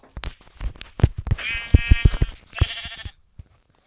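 Two bleats from a sheep in a video game, nasal and wavering, over a string of clicks and thumps from game play.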